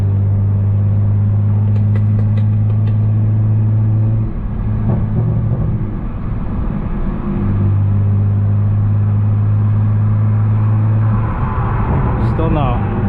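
A tuned 600+ AWHP BMW 335xi F30 with a six-speed manual cruises with a steady, loud exhaust drone and low rumble, with faint burbles. A voice talks over it.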